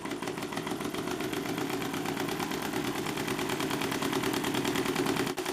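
A Stirling engine mounted on a bicycle runs at about 588 RPM, giving a steady, fast mechanical chatter and whirring hum that holds constant and moderately loud throughout, with no voices.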